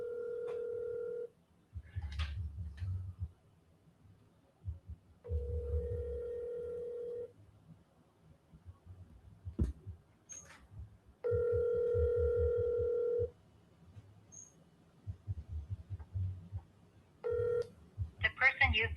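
Telephone line tones during an outgoing call, with several steady sustained beeps separated by gaps, plus brief clicks and low background rumble, and some voice sounds in between.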